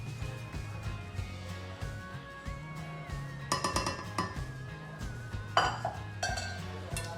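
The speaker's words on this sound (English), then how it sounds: "I have to switch up my pan because that is not going to be big enough." Pots and pans clink and clatter as gravy pans are swapped on a kitchen stove, a few scattered metallic knocks and rattles, close but fairly soft, over a low steady hum.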